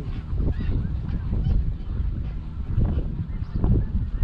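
A low flock of snow geese honks overhead, a dense, overlapping chorus of nasal calls, loud and close throughout without pause.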